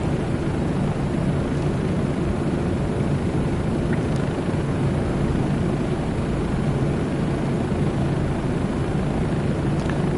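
Steady, loud rotor and turbine drone of a Bell 407 helicopter cruising over Cocoa Beach in Microsoft Flight Simulator 2024, a continuous unbroken roar with no talk.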